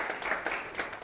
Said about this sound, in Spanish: un aplauso para el compañero de informática